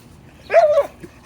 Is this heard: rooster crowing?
no